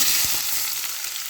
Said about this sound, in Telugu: ఆయిల్ వేసుకొని వచ్చి ఇట్లా వేసుకుంటే ఆనియన్స్ వెల్లుల్లి